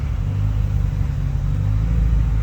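A 2004 Acura TL engine runs with a steady, deep low rumble, constant and close, with no talk over it.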